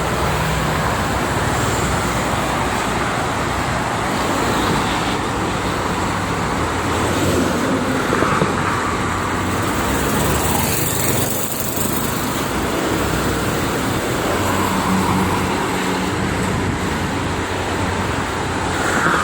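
Steady evening traffic on the Jakarta–Cikampek toll road roars continuously for nearly twenty seconds, a dense wash of car and bus engines and tyre noise with passing vehicles swelling and fading, no speech.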